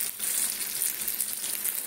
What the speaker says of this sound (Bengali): এই যে ভাজছি, গন্ধ আসছে,